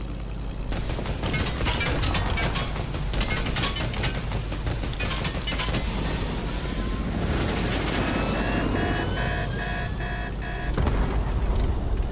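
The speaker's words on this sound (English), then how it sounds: "Helicopter." A helicopter in the video game Fortnite roars with a loud, continuous rotor chop and mechanical whine, joined by rattling clicks and rising electronic tones toward the end.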